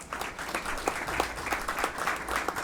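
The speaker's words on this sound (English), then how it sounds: "So a big round of applause to them." Audience applause for panelists at a forum on the energy transition in Latin America, a steady wash of many hands with a few sharper claps standing out, moderately loud and with no talking.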